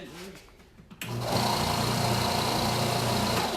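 A DeWalt table saw switches on partway through and runs at a steady, loud whine with a constant motor hum, close by, after a few quiet seconds.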